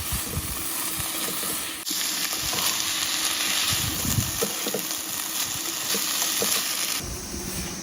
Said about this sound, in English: my rice is already starting to sizzle